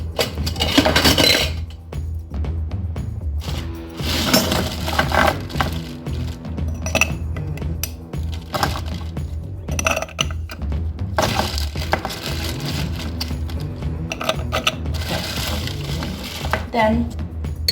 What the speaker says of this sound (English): Then we put some ice.